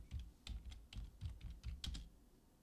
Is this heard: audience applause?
no